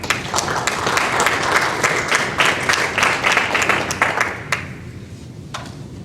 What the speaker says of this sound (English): So applause for Matthew as well.